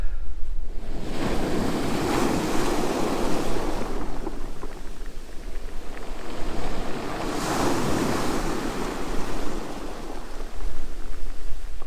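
Ocean waves break on the beach at St. Audrie's Bay. Two loud surging crashes swell and fade over a constant wash of surf, with wind buffeting the microphone.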